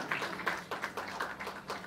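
Audience applause at the Sri Raghavendra Chitravani award ceremony, its 49th anniversary and 24th awards presentation, honoring K.J. Kumar: a steady wash of many hands clapping with irregular sharp peaks, moderately loud and sustained, no talking over it.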